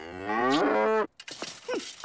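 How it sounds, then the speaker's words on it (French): A cow moos in a long, loud, close call with a rich harmonic tone for about a second, then stops; a few softer, shorter vocal sounds follow. "Une vache de compagnie, n'importe quoi."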